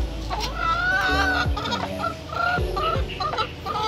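A native rooster calls to hens with a series of close, repeated clucking and crooning notes, several rising and falling calls over a few seconds with other fowl sounds around.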